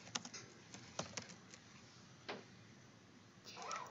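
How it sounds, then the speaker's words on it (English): Computer keyboard typing, a few quick clusters of light key clicks followed by sparse taps, close and quiet in a still room. "We would type in the New York Times here."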